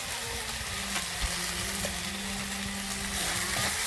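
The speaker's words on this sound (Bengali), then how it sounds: "সরষে বাটাকে হালকা করে কষিয়ে নিচ্ছি।" Mustard paste frying in a pan for a puti fish curry gives a steady, close sizzle with faint stirring scrapes throughout, no voices.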